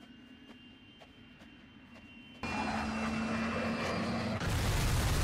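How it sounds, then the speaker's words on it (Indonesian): An airplane engine drones steadily, its roar growing abruptly louder and fuller as the aircraft draws closer. "si Scott ini ngedengar suara pesawat yang datang"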